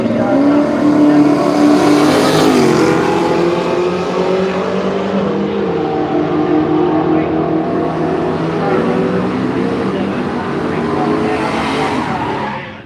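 A little blue Chevy LUV runs a drag strip pass at Willowbank Raceway in Australia, its engine roaring loud and close, climbing through gears before the sound fades away down the track.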